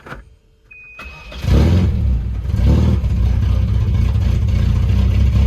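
A station wagon's engine cranks, catches and runs with the throttle feathered. It sounds loud and close, with a steady, slightly rough mid-pitched drone that is held up by small throttle blips.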